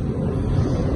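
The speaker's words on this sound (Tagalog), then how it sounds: "kung maririnig nyo talagang humuhugong ang ihip ng hangin" Strong typhoon wind, from Typhoon Kristine, howls outside a house amid light rain: a continuous low, rushing roar with slight surges, heard alone and fairly close.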